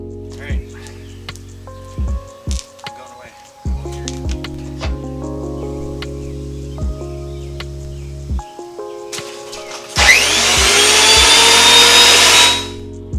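An electric wood planer whines on for a couple of seconds near the end, loud and close, after quieter clicks and tonal hums.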